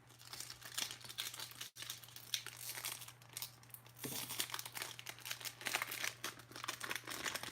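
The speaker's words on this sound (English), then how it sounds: "let's rip into this O-Pee-Chee pack real quick" Foil wrapper of an O-Pee-Chee trading card pack being ripped open and crinkled, a continuous loud close-up crackle with sharp tearing bursts and brief pauses, no one talking.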